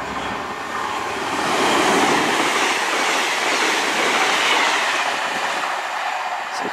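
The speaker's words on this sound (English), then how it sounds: "a Penzance to Glasgow Central fast train speeding through Yatton" A Class 221 Voyager train rushes past at speed through Yatton station, a loud broadband roar that swells and holds steady with faint rhythmic rattling, no voices.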